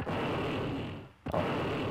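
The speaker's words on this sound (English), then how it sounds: "There's an explosion somewhere." An explosion from a plane crash near the airport in SimCity 2000, heard as a loud, sustained broadband roar that dips briefly into near-silence and then bursts back in at full strength.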